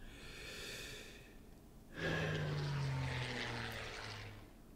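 A propeller plane drones in the WW2 strategy game Strategic Command, rising sharply after a quieter breathy stretch into a steady engine hum. The hum stays loud and close and then fades slightly toward the end.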